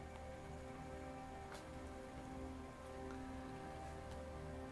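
Steady rain falls in the video game Rainswept, a continuous even patter across the whole stretch with no voices, moderately quiet and unbroken.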